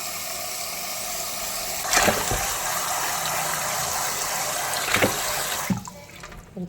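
Running water pours steadily from a tap as a goat head is rinsed clean for goat head thoran, a continuous close splashing stream with a few louder knocks and splashes before it cuts off near the end.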